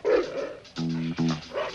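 Doberman dogs bark in an attack, with several close, loud barks and yips in quick bursts, separated by brief gaps and with no talking.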